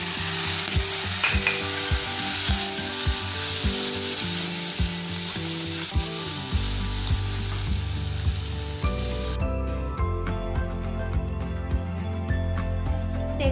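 Beef masala boti roasts in oil in a pan with a continuous close sizzle. Scraping and stirring clinks recur throughout, and the frying settles into a lower, steadier crackle partway through.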